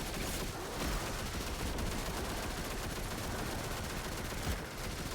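Rapid, sustained automatic weapon fire from a Destiny 2 firefight in a solo Legend lost sector, a dense continuous rattle of shots running throughout with no pause, loud and close.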